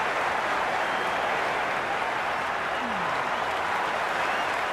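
A cricket stadium crowd at an India versus New Zealand one-day match applauds and cheers in a broad, continuous roar that fills the whole moment.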